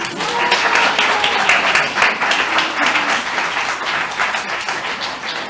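Loud, dense applause from an audience at an improv storytelling evening, a sustained wash of clapping that stays strong throughout and eases slightly toward the end, with faint crowd voices underneath.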